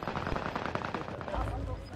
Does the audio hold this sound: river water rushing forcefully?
no